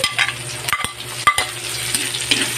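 Onion fries in a pan for pork binagoongan, giving a bright crackling sizzle close by, broken by a few sharp knocks and scrapes from a spatula over a brief moment.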